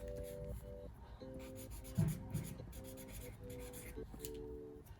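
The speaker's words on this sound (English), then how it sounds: "So I'm gonna go ahead and just write down, you know, with each marker" Markers being scribbled on blank printer paper while testing each color: soft, close rubbing and scratching strokes in short bursts, over a steady background hum with a faint tonal whine.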